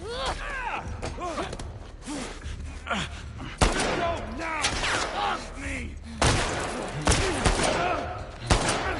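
Gunfire in The Last of Us Part II, with repeated shots and heavy impacts spread through a chaotic firefight, mixed with gasps, grunts and other game sounds under a steady ambient bed.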